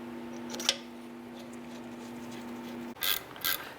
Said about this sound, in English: I'm going to go ahead and snug these caliper bolts down